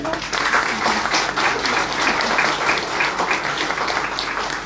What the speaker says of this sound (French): Vous l'applaudir.